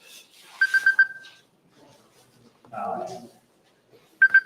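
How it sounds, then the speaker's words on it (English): Phone ringtone going off during a business meeting, two short bursts of electronic ringing with someone talking briefly between them. "don't know why it's ringing."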